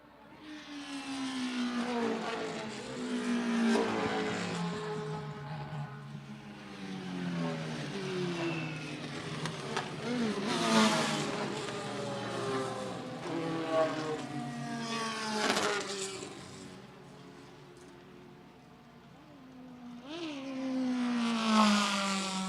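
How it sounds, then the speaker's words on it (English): Race cars lap Lime Rock Park on tire-warming laps, engines roaring past one after another with rising and falling revs and gear shifts, each pass swelling loudly before fading into the distance. "Take a couple of laps for the drivers to get heat into the tires."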